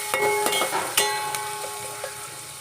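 Chopped onion dropped into hot oil for a sambar tempering, giving a close, steady crackling sizzle with a few sharp pops and stirring clinks, no voices.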